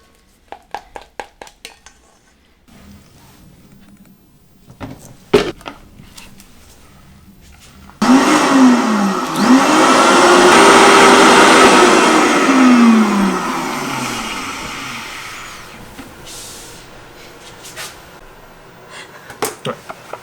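A countertop blender whirs loudly for several seconds, pureeing cooked red pepper into a smooth puree for a competition dish, its motor pitch rising and settling. Sharp utensil clatters come before and after it.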